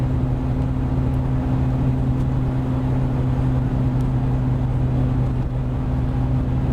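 Steady, loud engine and road rumble from a Ford Taurus driving on a flat tire, with a constant low droning hum and rough tire noise throughout, no voices.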